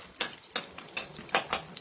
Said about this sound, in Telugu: వేడైన తర్వాత పోపు గింజలు ప్లస్ పల్లీలు ఒకటేసారి వేసేసుకోవాలి.